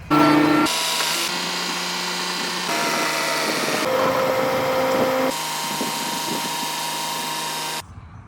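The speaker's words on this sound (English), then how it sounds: "by lucky chance, we have a drilling rig on site" Loud mechanical whine and grinding of a drilling rig boring a borehole on site, shifting pitch in blocks as the motor changes speed, steady and close, ending abruptly.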